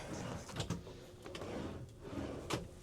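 Faint sliding and clunking of a drawer being pulled open and pushed shut in a cruise ship suite on Harmony of the Seas, a few short knocks and scrapes in a quiet room.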